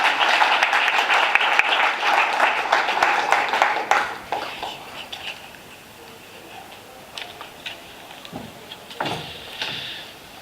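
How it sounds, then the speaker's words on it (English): A media summit conference audience applauds Professor Anton Harbour, dense clapping for about four seconds that then thins into a few scattered claps and quiet room sounds. "a huge, huge round of applause for Professor Anton"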